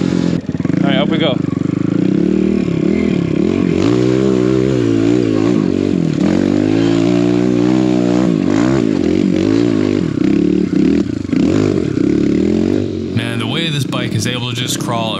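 A four-stroke enduro motorcycle rides through snow, its engine droning loud and close the whole time, with repeated revs rising and falling as the throttle opens and closes.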